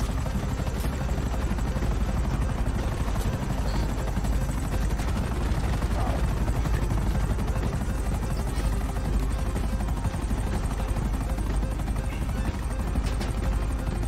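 A helicopter in the video game GTA 5 loses power, giving a loud, continuous, close rotor and engine roar with a slight rattling texture and no pause.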